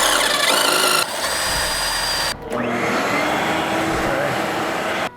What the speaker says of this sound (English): We will be drilling out these two holes.